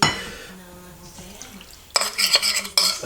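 A spoon or whisk scrapes and clinks in a bowl while galette batter ingredients are mixed, with a quiet stretch followed by a few louder bursts of stirring and scraping near the end.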